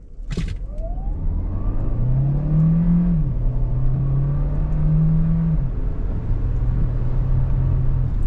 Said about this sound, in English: we are going to try out sport mode and our paddles, because that's not regen braking, that is manually going through the gears